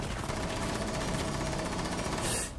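Rapid, steady automatic gunfire in Rainbow Six Siege, a sustained rattling burst lasting a couple of seconds before cutting off, heard fairly quietly.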